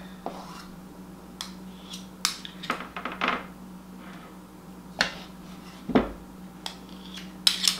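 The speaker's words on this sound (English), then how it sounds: "So now I'm just going to take my spoons and drop these out." Spoonfuls of soft biscuit dough dropped onto a baking pan, giving a scattering of light clinks and soft thuds at irregular intervals against a quiet kitchen background.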